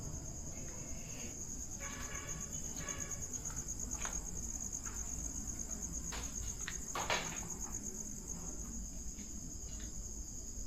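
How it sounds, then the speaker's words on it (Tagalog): Insects chirp and buzz at a public cemetery at night, with a constant high, shrill cricket drone carrying over a low background hum and a few faint clicks and rustles. "Oh my god, insekto guys."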